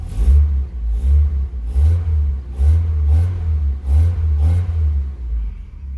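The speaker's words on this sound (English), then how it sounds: "Give it a rev." An Austin Maxi engine with a K&N air filter revs repeatedly, about seven quick throttle blips rising and falling over a steady low rumble, loud and close.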